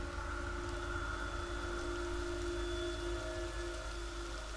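Steady, soft rainfall hisses in The Evil Within video game, a faint even wash of drops blended with low droning ambient tones throughout.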